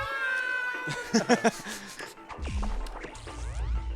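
Cat meowing in the video game BattleBlock Theater, a short run of quick cartoonish mews followed by a smash and thumping game effects, fairly loud over background game music.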